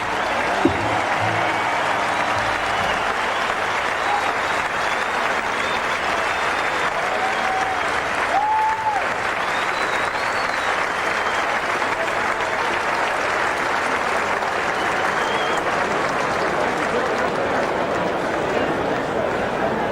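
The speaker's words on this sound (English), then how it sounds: "Let's give these folks one final lusty round of applause" A stadium crowd at the San Francisco Giants' Opening Day pregame ceremony gives a long, sustained round of applause, a broad even roar of clapping and cheering that holds for about twenty seconds without letting up.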